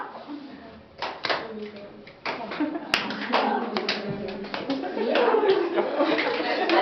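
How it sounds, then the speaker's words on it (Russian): Teachers at a forum for educators clap their hands in rhythm during a coordination exercise, a run of sharp claps mixed with someone talking. "давайте мы с вами включим хлопки"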